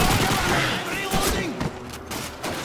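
Rapid gunfire from a World War II weapon in Call of Duty 2 on Veteran difficulty, a dense, noisy volley of shots rattling on continuously with someone talking over it.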